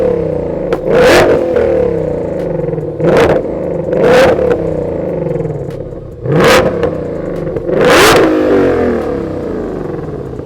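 A 1,000 hp car engine revs hard through its exhaust in five loud, close bursts with short idling gaps between them, each blip rising and falling quickly.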